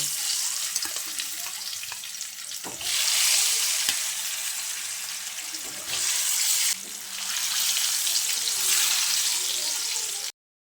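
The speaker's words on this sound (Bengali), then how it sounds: "এবার আলুগুলোকে ভেজে নেব" Potato pieces frying in hot oil for a vegetarian paneer biryani, a loud, continuous hissing sizzle that surges in bursts as the pieces shift, with occasional stirring knocks.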